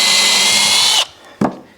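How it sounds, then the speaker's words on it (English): Power drill boring a hole into a 2x4 board while building a plywood workbench: a loud, steady one-second whine that cuts off, followed by a short knock. "So we'll go ahead and drill this hole into the other board"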